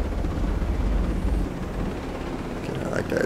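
Helicopter in the game Ghost Recon Breakpoint, a steady low rotor rumble with wind-like noise throughout, under a voice speaking.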